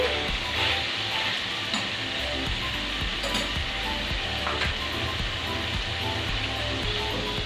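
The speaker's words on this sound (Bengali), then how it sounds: "এবার এর মধ্যে দিয়ে দেব পেঁয়াজ কুচি" Chopped onion sizzles and fries in a pan alongside chicken liver, a steady dense crackle with occasional clinks of a utensil stirring, close and continuous throughout.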